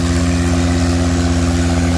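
A Swaraj 855 and a Mahindra tractor strain against each other in a tug of war, their diesel engines droning in a loud, steady, throbbing hum with no talk over it.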